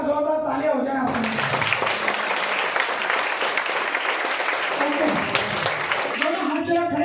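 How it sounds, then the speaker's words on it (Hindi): Loud, sustained applause from a large audience at a Vestige seminar, dense clapping rolling steadily for several seconds with a voice speaking over the start and end. "एक बार जोरदार तालियां हो जाए आपकी"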